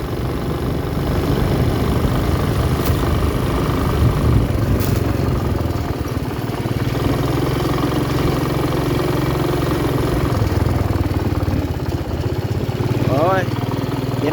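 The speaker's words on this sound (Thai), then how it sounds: "ตอนนี้ขับรถพ่วงนะครับ พ่วงข้างนะครับ" A motorcycle with a sidecar runs at a steady, loud engine drone throughout, near and continuous, with a brief whine near the end.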